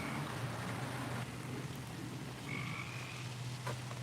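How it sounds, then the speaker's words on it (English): A frog croaks outdoors over a steady low ambient hum, a few faint, spaced calls heard at a distance. "I hear a frog."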